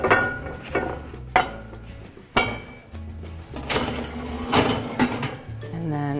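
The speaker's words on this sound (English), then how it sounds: "And then with your mitts, just carefully put the lid back on." A metal lid set back onto a hot pot holding scored sourdough bread, with several clanks and clinks of cookware amid kitchen handling and bursts of talk.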